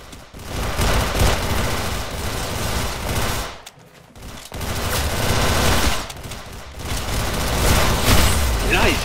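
Dense automatic gunfire from the Roblox game Arsenal rattles almost nonstop and loud, breaking off briefly twice, while a player talks over it.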